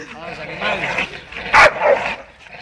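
An American pit bull terrier and a Staffordshire terrier scuffle and bark: one sharp bark leaps out near the end among yips and whimpers, under excited Spanish-speaking voices close by.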